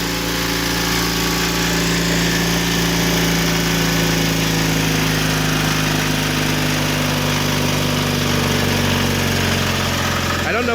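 A John Deere 316 lawn tractor engine with a rebuilt motor runs at high RPM, a loud, steady mechanical drone with strong harmonic hum, close and continuous, a voice faintly underneath.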